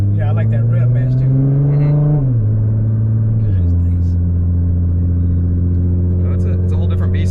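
Nissan GT-R tuned to 800 wheel horsepower, accelerating at full throttle: a loud, steady engine drone climbs, then drops abruptly at two quick gear shifts before pulling strongly again, heard close from inside the car.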